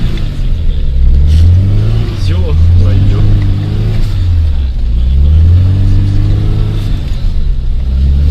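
A car engine revs hard and rumbles up close as it drives through mud, rising and falling in long surges throughout, with voices calling out briefly over the engine noise.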